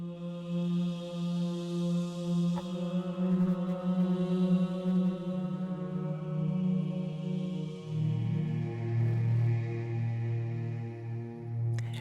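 A spacey boxes synth patch from a soundfont played on a keyboard, long sustained layered tones shifting to a lower held note partway through, bright and slightly clipped, with no voices.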